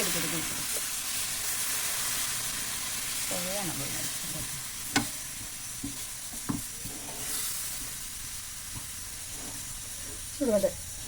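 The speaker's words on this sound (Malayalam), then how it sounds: "മല്ലിപ്പൊടി മുളക് പൊടി നമ്മുടെ മീറ്റ് മസാല എല്ലാം കൂടെ അതിനകത്തേക്ക് ഇട്ട് കൊടുത്ത് ഇനി നന്നായിട്ട് അതങ്ങ് മൂപ്പിച്ചെടുക്കുക" A steady hiss of coriander powder, chili powder and meat masala roasting in a hot pan, with occasional scraping stirs and clinks; a voice speaks faintly now and then.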